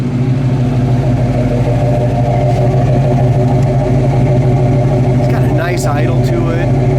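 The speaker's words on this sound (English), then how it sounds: "Let's listen to that exhaust and" A 1969 Camaro SS engine idles loudly with a deep, steady burbling exhaust rumble throughout, and a short voice is heard near the end.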